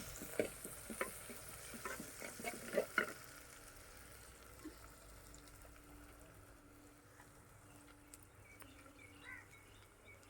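Shallots sauté in a clay pot over a wood fire for a homestyle fish curry. A faint, low sizzle runs throughout, with a few sharp utensil clinks and stirring scrapes near the start before it settles into quiet frying.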